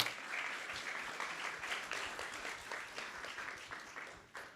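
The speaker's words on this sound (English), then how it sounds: "A big round of applause for each one of you." Steady crowd applause, many hands clapping together at moderate volume, sustained throughout with no voices over it.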